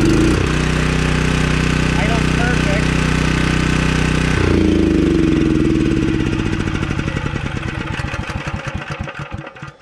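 An engine is fired up after its air filter was cleaned with brake cleaner, then settles into a steady, loud idle close by; partway through the note shifts and becomes a rapid, pulsing chug.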